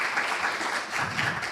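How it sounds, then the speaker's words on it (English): A community forum audience gives a brief round of applause, a steady wash of clapping from a crowd in a hall. "Big round of applause."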